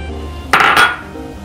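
A spoon or spatula scrapes and clinks against a wok twice as fried garlic is moved into a bowl in a kitchen. The clatter is brief and close over a low background hum.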